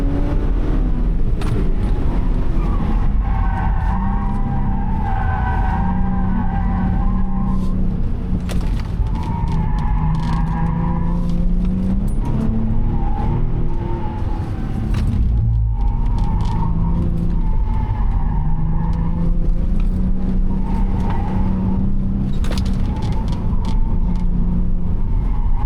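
Onboard a Subaru Legacy Spec B with the H6 engine on a race track on a cold day, engine droning loud and steady with repeated rises and falls in pitch as it revs through gears, continuous throughout without talk.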